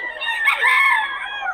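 A single close rooster crow rises and falls over about a second and a half at a busy market, loud and alone with no talk over it.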